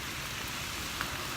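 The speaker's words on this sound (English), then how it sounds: "It is absolutely downpouring." Heavy rain in a steady downpour, a dense close hiss of drops drumming on surfaces, loud and unbroken with no voices.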